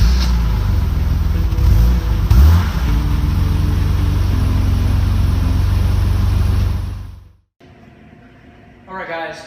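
A 1987 BMW M6 rumbles steadily up close as it is driven into a garage, its engine note rising briefly partway through before cutting out, leaving a quiet pause and then some faint shuffling noises.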